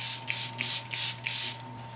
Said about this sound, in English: I am actually going to go in with a little bit of Charlotte Tilbury Airbrush Flawless Setting Spray